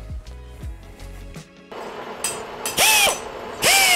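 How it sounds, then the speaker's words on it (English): Mechanical clicking and ratcheting while building a gaming PC, then a power tool whirs up in two loud, rising bursts, close and harsh. "Woohoo, power tools."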